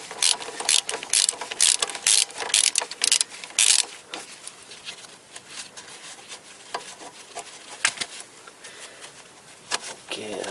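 Loosening a front suspension bolt on a 1996-2007 Toyota Corolla with a shorter bar during a front spring replacement: rapid, close ratcheting clicks for several seconds, then sparser clicks and scraping.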